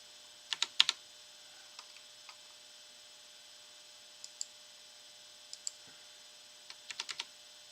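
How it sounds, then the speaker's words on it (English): Keys on a computer keyboard are tapped in short bursts, a quick cluster of clicks, then scattered single taps, then another rapid run, all close and crisp over a faint steady electrical hum, with no talking. "so you can actually see what I'm typing"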